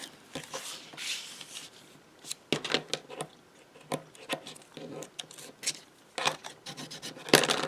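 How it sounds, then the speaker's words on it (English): Printed paper from a matchbox journal kit is creased and folded by hand along dotted lines, making soft close rubbing and scraping strokes in irregular bursts with quiet gaps between them and no talk. "fold on all the dotted lines"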